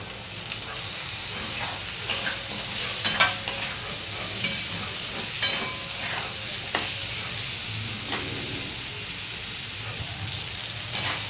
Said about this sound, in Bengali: আলু একটু ভাজা ভাজা হয়ে গেছে